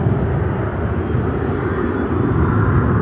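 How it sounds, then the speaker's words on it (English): An American Eagle Embraer 170 airliner in retro livery arrives at Chicago O'Hare, its engines a steady, broadband jet roar that holds loud and continuous throughout. "an American Eagle in their retro livery on an Embraer 170 coming in from"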